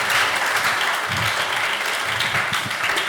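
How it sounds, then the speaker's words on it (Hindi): Loud, dense applause from a crowd fills the room continuously, cheering two children after a game at a live gathering, with murmuring voices faintly underneath. "जोरदार तालियां हो जाए दोनों बच्चों के लिए"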